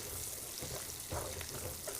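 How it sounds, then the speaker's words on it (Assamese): Sliced onions for onion paneer fry in a pan, a faint, even sizzling hiss with a few soft stirring bumps, steady and without talk. "1 মিনিটমান ভাজিলেই হ'ব।"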